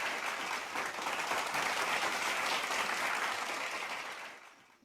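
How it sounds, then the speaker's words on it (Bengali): An audience applauds, a dense even burst of clapping that holds steady for a few seconds and then fades out, with no talking over it. "একটা জোরে হাততালি"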